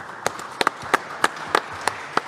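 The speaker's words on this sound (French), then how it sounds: "Applaudissements pour Romain Villain." Scattered hand claps from an audience at a Nancy city broadcast event, about eight sharp separate claps over a quiet room background, sparse rather than a full ovation.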